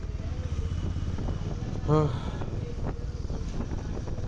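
A motorcycle engine runs steadily after a self start, a low continuous rumble mixed with wind buffeting on the microphone, with a brief voice-like tone partway through.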